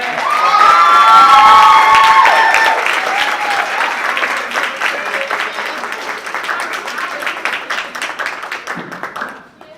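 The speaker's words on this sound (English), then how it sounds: "So she deserves a big round of applause." A school audience breaks into loud applause mixed with cheers and children's shouts, a thick roar of clapping that peaks early, then thins gradually and cuts off near the end.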